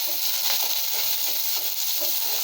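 Onions frying in hot oil for a long bean stir-fry, an even, close crackling sizzle with soft stirring scrapes throughout.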